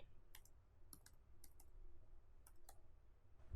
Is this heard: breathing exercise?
no